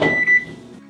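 An oven control being switched to broil, giving a short electronic beep, near and clear, after a brief clunk.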